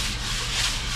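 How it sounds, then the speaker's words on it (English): Sanding a drywall patch, a brief continuous scratchy rubbing sound, close and steady. "So now we are sanding our work"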